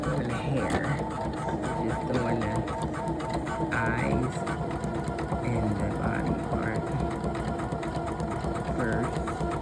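A Poolin embroidery machine stitches an owl design with a rapid, steady mechanical chatter and whir that continues throughout, with people talking over it.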